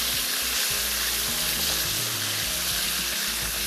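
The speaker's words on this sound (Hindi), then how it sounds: "एक से 2 मिनट तक चिकन को फ्राई करने के बाद" Chicken frying in hot oil for a frontier chicken masala, a steady dense sizzle throughout with no talking.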